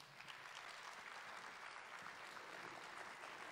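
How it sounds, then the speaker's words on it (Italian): An audience in the Teatro Nazionale di Genova applauds at an awards event, a soft, steady round of clapping from the hall that holds evenly throughout. "a cui vorrei dedicare all'inizio subito un applauso"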